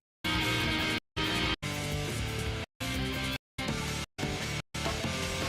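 Muffled, heavily filtered drums play in short choppy bursts separated by sudden silences, the beat dull and buried as if through small speakers.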